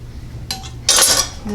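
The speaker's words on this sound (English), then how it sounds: "I'm just going to eyeball it and just use a nice sharp knife" A sharp knife cuts through a loaf of raisin bread in a couple of short, scraping strokes, close by, with faint clinks of metal.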